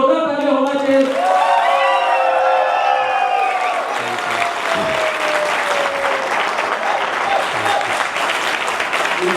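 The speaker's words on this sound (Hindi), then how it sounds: "वापस एक बार जोरदार ताली होना चाहिए।" Audience applause at a Vestige team event honouring T. Srinivas: loud, dense clapping sustained the whole time, with whistle-like cheers gliding over it early on and a hint of crowd voices underneath.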